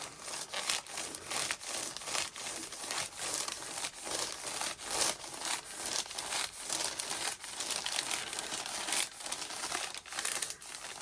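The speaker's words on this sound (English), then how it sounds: "So I'm just going to go over it with the parchment paper." Parchment paper crinkles and rubs as it is pressed over a crafted garment, a close, continuous scratchy rustle with repeated strokes over about eleven seconds and no voice.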